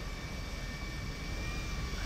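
A Titan cargo plane in Grand Theft Auto V drones overhead with a steady, dense jet-engine roar, constant and fairly distant, no voices present.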